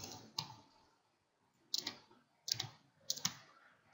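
A few sharp, close clicks of computer keyboard keys come in small bursts separated by short pauses while a Google search is typed, in a quiet room with no speech.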